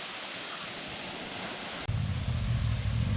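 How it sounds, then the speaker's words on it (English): Waterfall on the Rock House trail system, a steady broadband rush of falling water that deepens into a louder, fuller roar partway through, with no voices. "So this is the Waterfalls that's on their map, and it's just marked Waterfalls on the map, and this is on the Rock House trail system."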